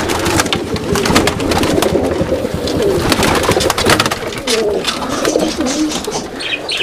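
Roller pigeons coo steadily in a loft, their low throaty calls overlapping continuously with bursts of wing flapping and rustling, close and fairly loud throughout.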